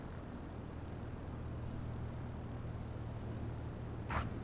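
A propeller plane comes in to land in MS Flight Simulator, its steady engine drone and low rumble continuing throughout, with a brief louder scrape or thump near the end.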